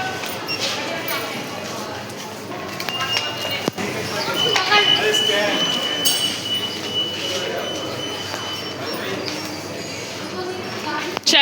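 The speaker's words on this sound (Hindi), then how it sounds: "मेट्रो में बैठ गए और यहाँ फोटो सेशन हो रहा है।" A Kolkata metro train rolls along with a continuous rumble and rattle of wheels, with a few sharp clicks and a faint high squeal; passengers talk throughout the ride.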